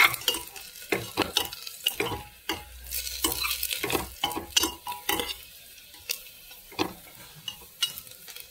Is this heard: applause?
no